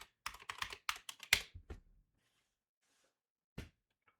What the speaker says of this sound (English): I'm fat fingering my typing today.